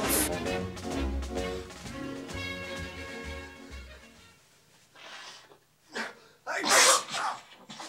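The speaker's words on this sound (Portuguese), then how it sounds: "Espirra na câmera, vai." One sharp, loud sneeze bursts out near the end, after music and a short stretch of talking and quiet breaths.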